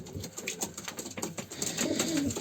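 Tumbler pigeons coo softly and repeatedly nearby in a coop, low rolling calls overlapping with faint rustling and fluttering in an enclosed space.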